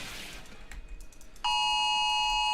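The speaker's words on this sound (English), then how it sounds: "It was like an Amber Alert, I think." A phone blares an Amber Alert emergency alert tone that cuts in suddenly and holds loud and steady, a harsh multi-tone beeping over faint background sounds.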